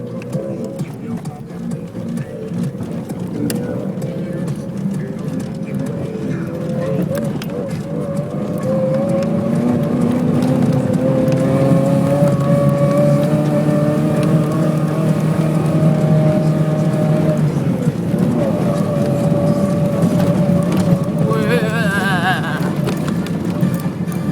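Toyota MR2 engine heard from inside the car, a steady drone that rises in pitch as it accelerates, then eases off near the end over road rumble on a bumpy surface.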